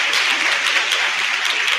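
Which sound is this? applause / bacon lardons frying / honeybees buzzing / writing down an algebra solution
applause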